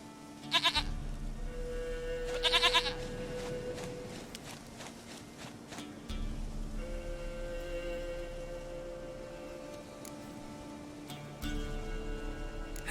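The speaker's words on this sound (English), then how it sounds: "Goat of mine, dearest, sweetest goat." Goat bleating in The Witcher 3, repeated wavering bleats over a steady droning game soundtrack, with the tone shifting in sections across the stretch.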